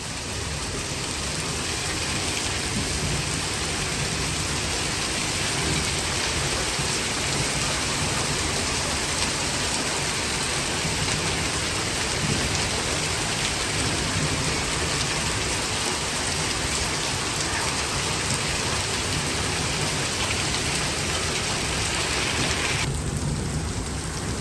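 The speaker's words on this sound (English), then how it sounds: "The thunder is literally not stopping. You can just hear it rumbling." A springtime severe thunderstorm with hail pours heavy rain in a constant loud hiss, with low thunder rumbling continuously beneath it and no talking.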